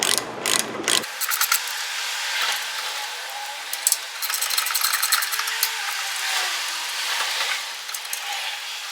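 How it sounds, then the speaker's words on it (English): A ratchet wrench working the rear brake caliper bracket bolts loose on a 2004–2007 Toyota Highlander. It opens with a few sharp clunks, then a long run of close, rapid, rhythmic pawl clicks in repeated bursts. "You want to make sure you break both of the bolts loose first before you take the bolt totally out"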